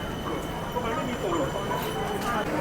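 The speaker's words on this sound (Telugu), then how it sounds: "వచ్చింది BTS ట్రైన్" A BTS Skytrain metro train pulls into a Bangkok elevated station, a steady rumbling roar with a faint high whine and squeal, heard close and loud amid ambient platform noise.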